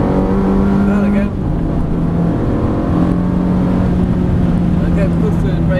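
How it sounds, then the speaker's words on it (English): A Ferrari engine drones and rises in pitch, dropping briefly as it shifts gears, while someone talks over the engine noise. "Shift up another gear, Chris."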